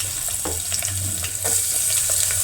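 Crushed garlic hitting hot oil with mustard seeds and curry leaves, a steady close sizzle with small crackles and pops that grows slightly louder midway.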